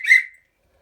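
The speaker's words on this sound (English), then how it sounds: "We have a original U.S. military whistle." An original 1943-era U.S. military WW2 whistle gives one short, shrill blast that fades within half a second, close and alone.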